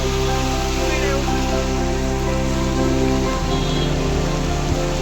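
Heavy rain pours down during a ride, a dense, steady wash of water noise with a low humming drone underneath, loud and close throughout.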